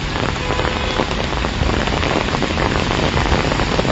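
Sudden heavy rain pours down over Belagavi, a dense, steady hiss of drops pounding surfaces, loud and unbroken throughout with no voices.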